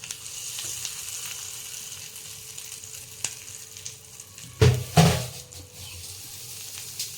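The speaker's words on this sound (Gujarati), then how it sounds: "વઘાર અંદર નાખી દઈશું." Hot tempering of oil, mustard seeds, asafoetida and sesame poured into dhokla batter bursts into two loud sizzling crackles after a quiet kitchen background, then fades to a soft hiss.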